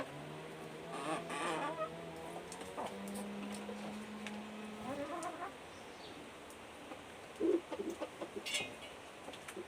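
Chickens in a coop cluck and call near and far, with a drawn-out crow-like tone and scattered short calls over a steady rustling background.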